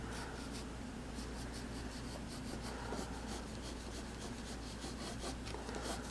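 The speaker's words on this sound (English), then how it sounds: "I might just do a quick sketch of the dead dinosaur that the Spinosaurus obviously killed" A pencil scratches steadily across paper while sketching a dead dinosaur, producing a continuous close, soft rubbing texture with quick repeated strokes and no talking.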